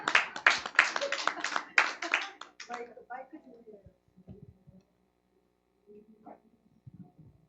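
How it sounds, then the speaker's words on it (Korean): Audience applause at a church lecture session rises in a dense burst of many clapping hands for about three seconds, then thins into scattered claps and room noise. "박수 한번 쳐주세요"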